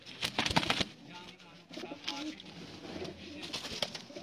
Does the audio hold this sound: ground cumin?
no